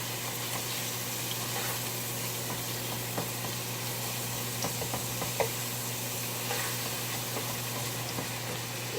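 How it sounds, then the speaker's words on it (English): Ground beef browns in a pan on the stove, giving a steady low sizzle with occasional scrapes and stirring clicks over a constant background hum, with no talking. "Browning this little ground beef."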